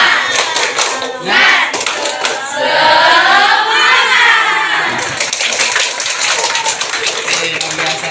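A grade 8 classroom of students claps a rhythmic spirit chant together, with sharp repeated hand claps mixed with loud shouted voices close by.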